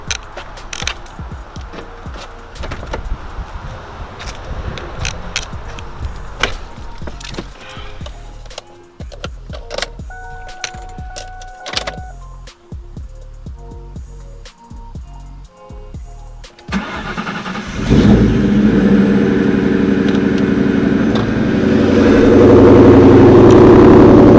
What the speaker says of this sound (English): I'm gonna go ahead and turn the car on